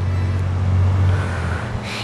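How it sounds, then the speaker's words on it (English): Road traffic behind a screen of trees near a lakeside garden shrine, a low steady rumble of passing cars, moderately loud and unbroken, with a brief brighter hiss near the end and no talk. "the road is behind those trees, and you can kinda hear the cars, but it's not too loud"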